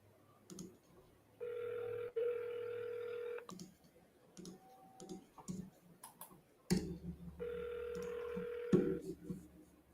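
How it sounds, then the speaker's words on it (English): An outgoing telephone call rings back twice, each ring a steady two-second electronic tone with a pause between, heard over a faint line, with a voice talking briefly between the rings. "Can you hear that phone ringing, Caesar?"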